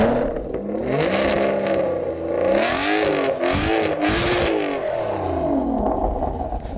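An Aston Martin GT12 engine revs repeatedly, its pitch swooping up and down in several loud surges with sharp crackling bursts between them, close and unaccompanied by speech.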